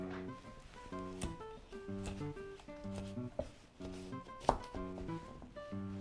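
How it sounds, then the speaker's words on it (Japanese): A knife chops a carrot on a cutting board, quartering it for small rough-cut pieces sized for nursery-school children. A handful of crisp, separated chops sound over steady background music. "保育園で切る場合はまずこれを4等分にします"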